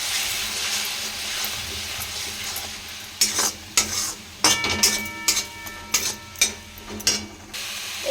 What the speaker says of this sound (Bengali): এবার নাড়াতে হবে, ভালো করে